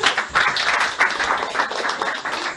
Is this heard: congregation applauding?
yes